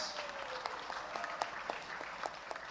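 Applause for the speakers at a halal conference signing ceremony, a short burst of steady clapping from an audience, moderately distant and fairly quiet, with no voices over it.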